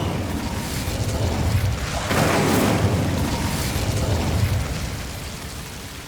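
An Incendio fire spell goes off in Hogwarts Legacy as a sustained, roaring burst of flame that swells midway and then tails off, with no voices over it.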